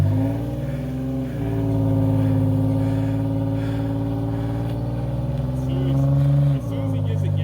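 A car's engine revs up hard while its tires spin on an icy road, a steady droning roar that surges and drops back twice, with muffled voices talking underneath.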